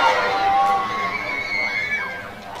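Spectators at a football match in Ukhrul, a Shillong Lajong FC game, erupt in excited shouts and cheers as a shot narrowly misses, a dense crowd roar with high voices rising and falling.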